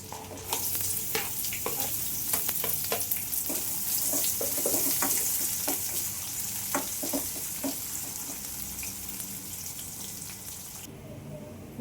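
Chopped onion sizzles and crackles in a hot pan while cooking aloo paratha filling, with a steady bright frying hiss and scattered sharp pops and stirring scrapes, close and fairly loud, cutting off abruptly at the end.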